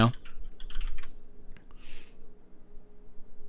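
Irregular clicks of typing on a computer keyboard, close and moderately loud in short bursts with pauses, during a gaming podcast with faint speech in the background.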